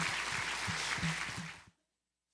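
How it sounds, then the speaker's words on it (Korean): A church congregation at a Sunday worship service claps together in a full, steady round with a low hum beneath it, cutting off abruptly into silence before a brief sound returns at the very end. "우리 하나님께 감사와 영광의 박수를 올려드리겠습니다"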